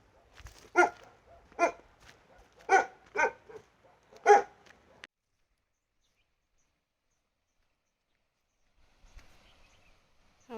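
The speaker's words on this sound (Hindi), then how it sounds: "देखो वो भी भौंक रहा है।" A dog barks five times in quick bursts, fairly close, then falls quiet for several seconds before faint rustling returns.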